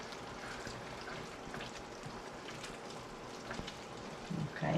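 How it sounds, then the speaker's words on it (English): Picadillo simmering in a pot for Mexican picadillo and chile rellenos, stirred with a steady wet bubbling hiss that runs throughout, with a few louder scraping stirs near the end. "So let me go ahead and stir it."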